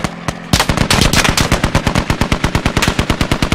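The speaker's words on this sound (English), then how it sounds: "That other Humvee's lighting me up!" Humvee-mounted machine gun firing in the military shooter Squad: a loud, sustained stream of rapid, evenly spaced shots that starts abruptly after a brief pause and keeps hammering without letup, with no talking.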